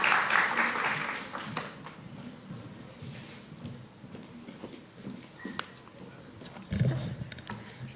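Conference audience applauding presenters at a youth civic participation event, a burst of clapping at the start that thins out into scattered claps and faint room noise.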